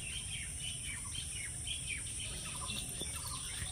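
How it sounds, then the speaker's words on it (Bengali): Four caged pet birds, one yellow, chirp in quick, faint, repeated bursts against a steady background hiss, with no talking. "পাখিগুলো খুব সুন্দর, কিন্তু 4টে পাখি আছে"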